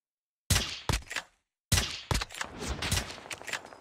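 Gunfire in a shooter video game: a few sharp, loud shots, a pause, then a denser burst of cracks and echoing reports fading into a rumbling tail.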